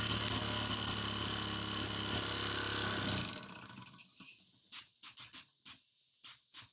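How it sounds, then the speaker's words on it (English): A Mamod model steam roller's steam whistle gives repeated short, shrill toots in quick bursts, with a low mechanical rumble under the first few before it fades, then more sharp whistle blasts close by. "There you go, we have steam whistle."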